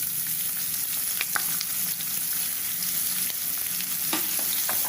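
Chopped onions with a pinch of asafoetida sizzle steadily in a hot oiled pan, a dense continuous crackle with a few sharper pops and faint stirring clicks, close and alone without voices.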